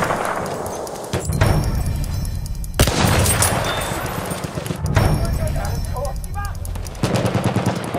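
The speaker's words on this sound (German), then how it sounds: "Artillerie hat jetzt die Koordinaten der Feindstellung." Battlefield 1 battle scene with rapid gunfire, bursts of automatic fire and distant booming blasts that could be artillery, under shouted voices throughout.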